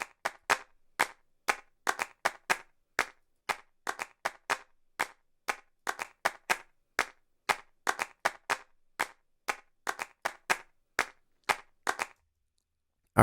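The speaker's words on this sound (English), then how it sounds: "I'm really driving those claps because I want it to sound vintage" Vintage-style drum machine claps programmed in Maschine, driven hard with saturation: a long run of sharp, dry, close claps in a steady, busy pattern with doubled hits, stopping abruptly near the end.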